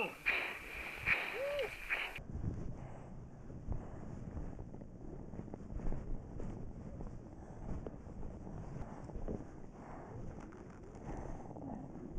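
Wind buffets a microphone high on Mount Everest, a steady low roar and rumble with gusty swells that continues for about ten seconds after a brief opening burst of other sound.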